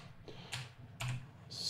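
Three quick bursts of key presses on a computer keyboard while entering custom shortcuts in 3D sculpting software, crisp clicks close up in a quiet room with no voice.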